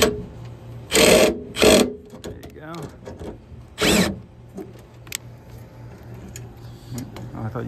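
A power drill drives screws to lock a three-phase motor onto its bracket. Three short, loud whirring bursts come close together, separated by small clicks and shop handling noise.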